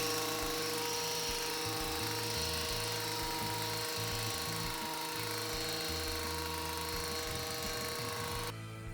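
Hedge trimmer running while trimming bushes, a loud steady motor whine with fluctuating low buzzing as the blades work through branches, continuous and close until it cuts off right at the end.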